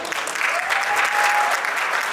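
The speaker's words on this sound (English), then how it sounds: "Please give them a round of applause." Sustained applause fills a banquet hall at a JCI installation and award dinner, many hands clapping steadily and densely at close range, with no voices on top.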